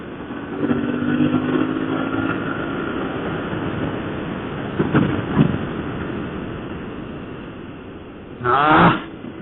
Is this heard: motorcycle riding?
yes